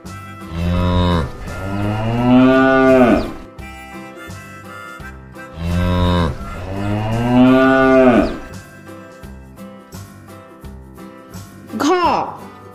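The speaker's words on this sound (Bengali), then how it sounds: "গয়ে গরু বাছুর দাঁড়িয়ে আছে।" A cow and calf mooing: two long, loud, drawn-out lowing calls in succession, followed by a short higher-pitched bleat near the end, standing out clearly against quiet background.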